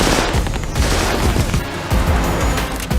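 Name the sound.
gunfire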